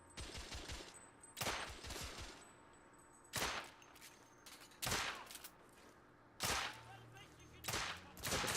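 Pistol shots ring out in The Order: 1886, five or six loud, sharp cracks spaced about a second or more apart, each with a short echoing tail over a low murmur of game background.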